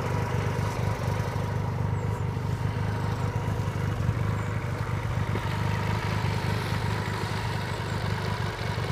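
A motorcycle engine idles close by, a steady low throbbing rumble with even, rapid pulses, constant and alone throughout.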